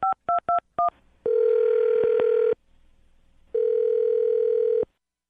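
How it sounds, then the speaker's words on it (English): Four quick touch-tone beeps, then two long steady ringback tones separated by a pause, clean and close with no talking. "I'm going to dial her phone number."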